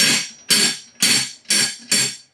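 Steel reactive targets of 10-gauge plate are reset by pulling a string, giving five sharp metallic clanks at steady half-second intervals, each ringing briefly. Nearby, with no talking.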